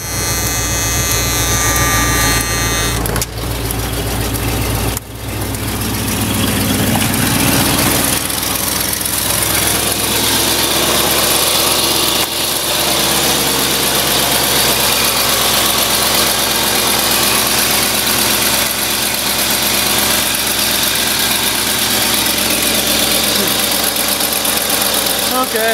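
Ford Bronco with an aluminum engine cranking briefly, then catching and settling into a steady, fairly loud idle that runs on without a break.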